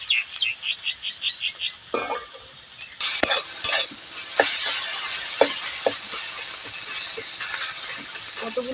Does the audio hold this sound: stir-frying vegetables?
yes